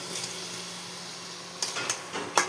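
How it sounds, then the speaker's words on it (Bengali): Fried potatoes are tipped into a pan of spiced curry for a Bengali egg dalna, a faint sizzle running throughout with a few soft clatters and stirring scrapes near the end. "এখন আমি এর মধ্যে ভেজে রাখা আলুটা দিয়ে দেব।"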